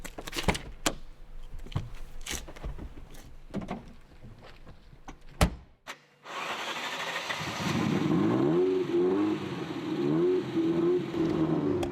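A Ferrari 288 GTO engine cranks over after scattered clicks and knocks, catches at about six seconds, then holds a loud, steady idle that swells into repeated throttle blips.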